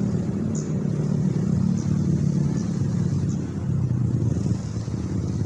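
A loud, continuous motorcycle engine rumble with a deep, steady drone from an enlarged aftermarket exhaust, idling or cruising nearby; no voices.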